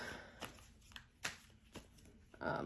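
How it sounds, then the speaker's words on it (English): Tarot cards are shuffled by hand in a quiet room, giving several faint, quick riffling snaps spaced through a few seconds and ending in a short burst. "one more shuffle here"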